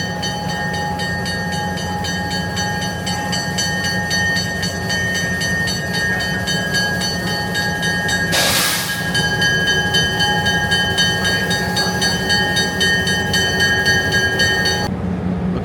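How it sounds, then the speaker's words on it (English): A heritage excursion train of the Great Smoky Mountain Railroad rolls into a station, its steady rumble and rail clatter continuous and loud throughout, with a brief hissing burst partway through and no talking. "here's the train rolling into the station."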